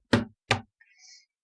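Two loud, sharp knocks on a door about a third of a second apart, followed by a faint high ringing tone, in an indoor domestic drama scene.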